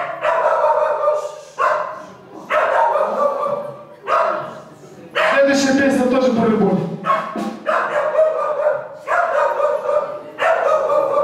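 A dog barks and howls along in long, sustained, wavering bursts, loud and close, with short pauses between bursts that come in a steady rhythm, during a song performance.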